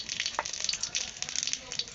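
Dry red chillies sizzle and crackle in hot mustard oil in a kadai for tempering, a bright, dense frying hiss with quick pops throughout, heard up close and fairly soft.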